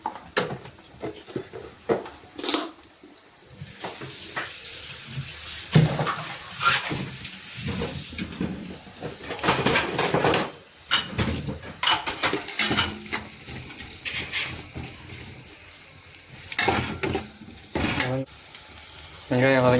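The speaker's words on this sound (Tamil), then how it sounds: "வெங்காயம் வதங்கிட்டு இருக்கு" Onions sautéing in a pot for a 1 kg mutton biryani, a broken sizzle mixed with bursts of clattering pots, stirring and running water, with some voices in between.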